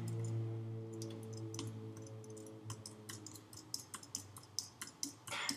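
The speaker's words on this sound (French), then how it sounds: "D'ailleurs j'ai dû appuyer grave fort sur mon clavier, vous avez dû l'entendre." Hard presses on a computer keyboard during a Happy Wheels game session, with sharp clicks that start sparse and grow into a brisk, uneven run of loud, close keystrokes over a steady low hum.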